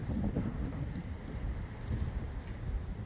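Strong storm wind gusts during Storm Herminia roar steadily and buffet the microphone with a constant, deep rumbling rush that never lets up.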